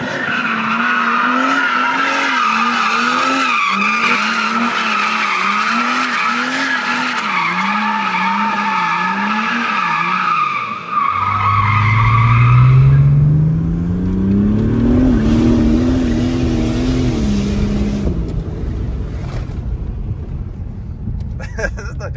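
A powerful car with an automatic gearbox and 600-700 Nm of torque accelerating hard on a track, engine revving under talk, then squealing tires as the wheels spin while the revs climb and hold.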